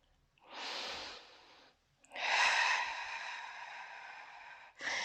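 Close, loud breath exhales during a Pilates back exercise with a softball: a long breathy outbreath, a short pause, then a longer, stronger exhale that fades, and another beginning at the end.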